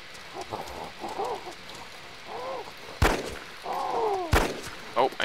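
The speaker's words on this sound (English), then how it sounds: "I'm gonna have to shoot the zombie" A rifle fires at a zombie in the video game DayZ, two sharp loud shots a little over a second apart, with faint game ambience and a bird-like chirping between them.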